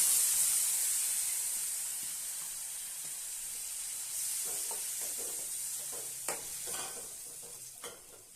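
Soaked lentils tipped into a hot spiced pan, a bright hiss that fades, then scattered stirring scrapes and crackles toward the end, fairly faint with no talking.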